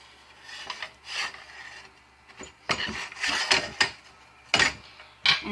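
Homemade playdough is scraped and rubbed around the wall of a cooking pan in irregular rasping strokes, close and fairly loud, with short pauses between bursts and no talking.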